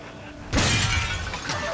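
Glass shattering as it is shot in the retro shooter game Slayers X, a sudden loud burst of breaking shards and crackle that rings out over a low rumble for about a second.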